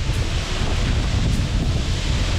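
The 150-foot Rainbow Falls waterfall in a North Carolina temperate rainforest, a dense, unbroken roar of rushing water, loud and steady with no voices.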